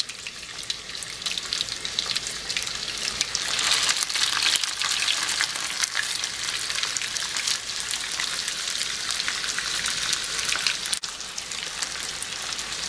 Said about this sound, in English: we're not stir frying, we're soft sauteing